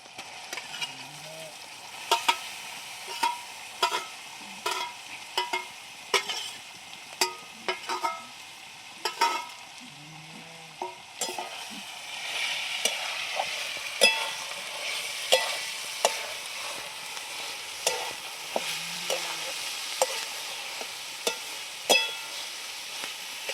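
Ground chutney of fresh coconut, green chillies and coriander frying in hot oil in a pan with tomato, a continuous soft sizzle punctuated by regular sharp clicks and scrapes of a spoon stirring, growing slightly louder midway; no voices.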